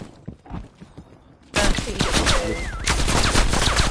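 Rapid bursts of automatic gunfire and fusillades in a Call of Duty prop hunt match, erupting loud and dense after a quieter stretch of scattered shots and staying intense to the end.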